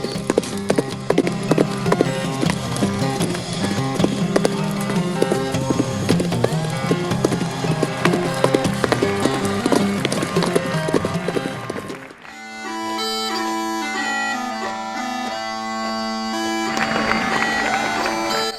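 Horses gallop with a steady clip-clop of hooves, mixed with music, during a ring tournament at Shannondale Springs, Virginia, in August 1848; the hoofbeats run continuously, then give way to sustained musical tones near the end.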